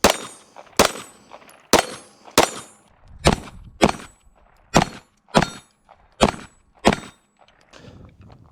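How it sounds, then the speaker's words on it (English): Ten sharp gunshots from a SAR9 SOCOM pistol firing 115 grain Armscor rounds, fired at an even pace over several seconds, each loud crack followed by a brief ringing decay. "this time we got 10 rounds of 115 grain Armscore loaded up"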